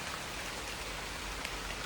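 Steady rain falls around a hillside spot in Thenmala, Kerala, a dense, even hiss of drops on surfaces lasting throughout with no pauses and no voices.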